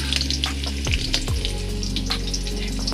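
Hilsa fish hitting hot oil with cumin and green chillies, a steady close sizzle and crackle of frying that runs throughout, with a couple of brief splashy clatters near the start.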